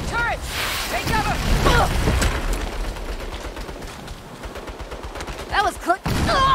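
Turret gunfire in a Saints Row game cutscene, sustained heavy automatic fire and rumbling blasts throughout, close and loud, with shouting voices over the shooting.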